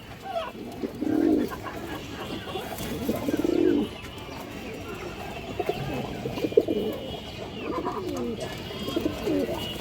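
A young female pigeon coos close by in a few distinct low bursts, with softer cooing and scattered clicks from other birds between them and occasional voices.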